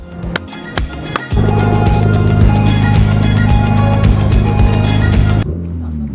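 A Ferrari 296 GTS with its V6 engine firing up after a few clicks and knocks, then settling into a loud, steady idle close by that cuts off near the end.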